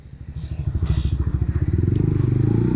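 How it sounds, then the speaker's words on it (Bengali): A Honda X-Motion motorcycle fitted with a Yoshimura GP Magnum exhaust revs up close and loud, its rapid firing pulses climbing in pitch and then holding a steady high drone. "বাইকটা আমি যখন লাইক এই যে রেভ করছি, বাইকটা যেভাবে যাচ্ছে ফাস্ট"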